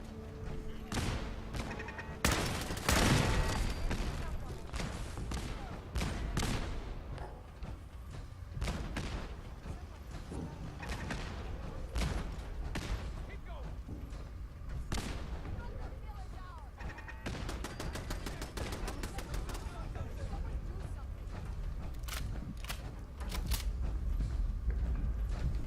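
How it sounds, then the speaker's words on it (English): A firefight in the video game Fallout 4, with scattered sharp gunshots and bursts of fire crackling throughout at moderate loudness, some shots close and others farther off, mixed with mechanical clanks and faint talk. "all shooting each other?"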